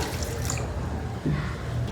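Water poured from a half glass into a blender jar holding pomegranate seeds and sugar, a brief steady splash and trickle for a short moment with a slight low background hum.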